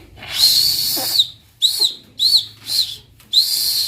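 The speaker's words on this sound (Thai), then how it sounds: "นี่จะเป็นนกหวีดผีเสื้อสีสวยงามมากเลย" A toy butterfly whistle is blown several times in short, shrill, warbling bursts, loud and close. The first blast is long, then four shorter ones follow with brief gaps between them.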